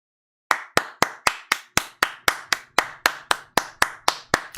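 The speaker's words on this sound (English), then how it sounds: "Round of applause for the local news." Sharp, evenly spaced hand claps, about sixteen in a row at a steady brisk rhythm, close and loud with nothing else underneath, a single person applauding a local news report.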